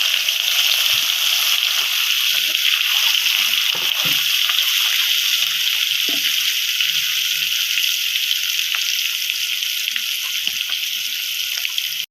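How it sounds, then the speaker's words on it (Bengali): Chopped snake gourd fries in hot oil with a steady, loud hiss and crackle that runs throughout, with a few soft clinks of utensils and no talking. "এরপর কুচানো যে চিচিঙেরা ছিল আমি এটা ভেজে নেব।"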